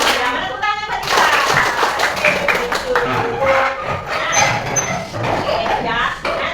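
Hands clap along during a children's song in a classroom-style lesson, with bursts of brisk clapping mixed with someone speaking loudly and cheerfully over them, close and lively.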